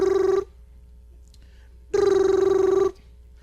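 Telephone ringing for a phone call: two bursts of an electronic trilling ring, a short one then a longer one about a second apart, close and clear with a quiet pause between, no talk.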